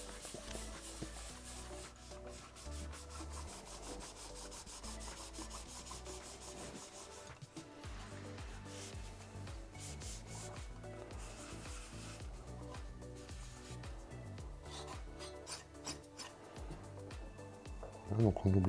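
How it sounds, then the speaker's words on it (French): A cloth dampened with 95% household alcohol rubs over an xTool S1 laser engraver, giving a continuous close scrubbing and wiping sound with brief pauses and changes of stroke; someone talks quietly over it. "je prends un chiffon. Donc là, je mets de l'alcool ménager à 95 hein, pour enlever tous les petits résidus gras"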